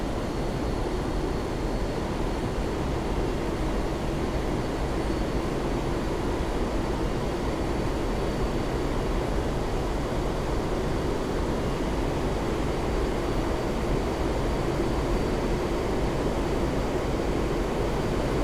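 A-4E Skyhawk jet climbing after take-off in a flight simulator game, a steady, loud, unbroken engine roar and rumble with no other sounds.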